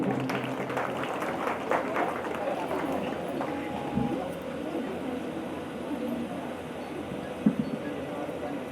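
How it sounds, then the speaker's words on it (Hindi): Applause from the audience at a devotional manas mandali gathering in Kamroud, a dense continuous clapping that holds steady over several seconds with a faint voice beneath. "जोरदार तालियों सम्मान चाहेंगे"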